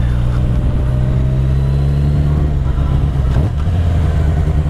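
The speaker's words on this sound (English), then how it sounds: "it's literally just a quick little blip of the throttle, pull the clutch, and drop it down. I can even rev match it down" A motorcycle engine idling steadily and loudly up close, with a brief throttle blip and shift in pitch partway through as the rider rev-matches a downshift into first gear; no speech.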